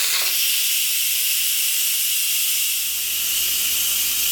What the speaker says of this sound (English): You'll hear the steam start to slow a little bit, and eventually the little float valve will drop down.